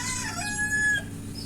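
A rooster crows close by on a poultry farm, among large egg-laying parent hens, its single drawn-out call rising over soft background clucking, with no voices.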